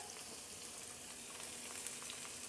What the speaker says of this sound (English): we're melting that stick of butter, we're gonna add all of our colored peppers in